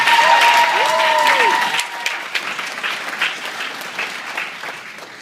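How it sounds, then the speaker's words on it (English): Graduation audience clapping for the families seated behind the students, a full round of applause that starts strong with a brief whistle, then gradually thins and softens. "give a roaring hand of applause to the people that are sitting behind us"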